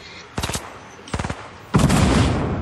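Gunfire in the video game Fortnite, aimed at trees: two short rapid bursts of automatic shots, then a louder sustained burst, close and punchy.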